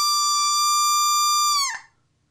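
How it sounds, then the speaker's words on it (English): A hunting call, a spec call, is blown with straight clear air, giving a steady, bright whistling tone with many overtones that holds for over a second and a half before dropping off abruptly, close and alone. "If you take your spec call and just blow into it"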